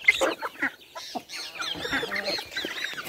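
A farmyard chicken clucks close by in a quick, uneven run of short calls and squawks lasting about three seconds, with no talking over it.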